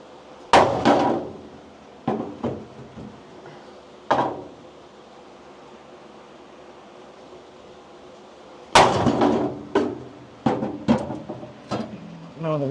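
A hammer strikes the body of a 1965 Mustang GT convertible. Close, loud metallic blows come in irregular clusters with quiet gaps between them.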